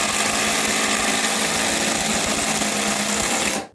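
Makita and Ridgid cordless power tools whining together at full speed on fully charged batteries, a loud, steady mechanical drone up close that cuts off at the end.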